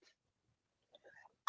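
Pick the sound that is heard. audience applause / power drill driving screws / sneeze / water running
sneeze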